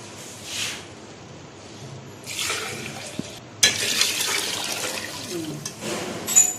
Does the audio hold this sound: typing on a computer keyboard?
no